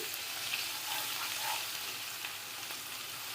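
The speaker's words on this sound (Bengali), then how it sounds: "এখন সেম তেলের মধ্যেই আমি এখানে দিয়ে দিব জিরে আর পেঁয়াজ বাটাটা আমি দিয়ে দিচ্ছি।" Cumin and onion paste hits hot oil, giving a constant soft, fairly quiet sizzle with faint bubbling and no voices.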